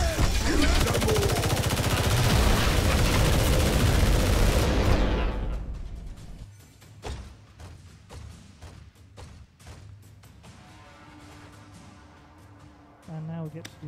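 Gunfire in the Warhammer 40K Regicide video game: a loud, dense burst of shots for the first five seconds, then scattered single shots and thuds over quieter game sound.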